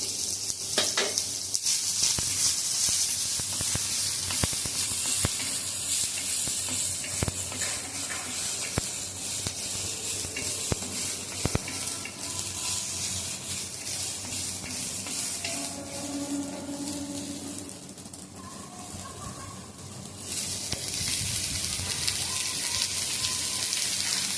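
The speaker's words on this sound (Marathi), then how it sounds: "थोडं 1 चमचा तेल टाकते. आपल्याला कांदा भाजून घ्यायचा." Onion frying in about a spoonful of oil in a pan for green-chilli stuffed brinjal, a loud continuous sizzle with stirring scrapes and occasional sharp pops, no voices heard.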